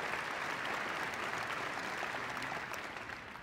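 Dense applause from an audience for a demonstration team, a continuous wash of many hands clapping that fades slightly toward the end.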